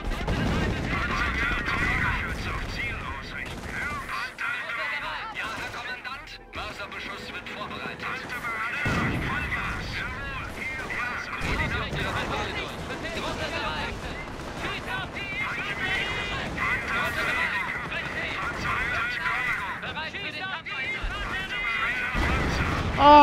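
Artillery barrage in Company of Heroes, a World War II strategy game, with dense booms and explosions rumbling continuously through a busy battlefield mix, while someone talks over the noise.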